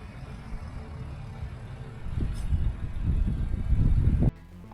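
A Porsche Cayenne Diesel cruising on the road, its low, steady engine and tyre rumble building gradually from cabin level before cutting out abruptly near the end.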